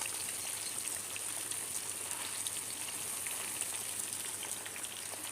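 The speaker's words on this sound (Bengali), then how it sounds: "তেলটা গরম হয়ে গিয়েছে এবার আমি আজ আস্ত ইলিশ মাছ দিয়ে দেবো" A whole hilsa fish sizzles in hot oil with a dense, steady crackle and spitting hiss that holds evenly throughout without pause.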